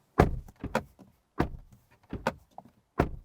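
A 2024 Hyundai i30 Sedan N's door slams shut several times in a row, each a heavy close thud with short pauses between.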